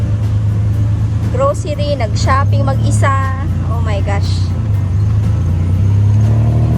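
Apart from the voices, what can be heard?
tuk-tuk ride in Bangkok traffic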